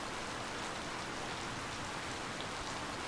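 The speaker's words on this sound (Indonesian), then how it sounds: "Mumpung hujan, Pak, nanti nggak usah siram-siram ya." Steady rain falls in the farming video game Harvest Moon: Light of Hope, a dense even hiss with no breaks, fairly loud and without talk.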